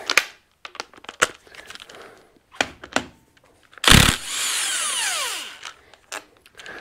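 A power tool takes out a 16 mm bolt holding the fan motor on a Massimo vehicle: sharp metallic clicks and clanks, then a loud burst of whirring drive that winds down over a couple of seconds, followed by more scattered taps.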